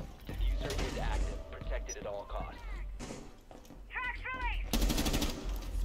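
Gunfire in Rainbow Six Siege, heard as fairly loud bursts of shots through the clip, with a strong barrage near the end, mixed with other in-game sounds while players talk over it.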